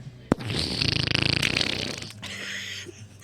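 A long, rasping fart rattles in a fast, fluttering pulse for about two seconds, loud and close, then trails off into a softer tail.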